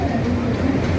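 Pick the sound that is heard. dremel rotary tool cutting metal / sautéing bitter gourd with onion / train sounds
train sounds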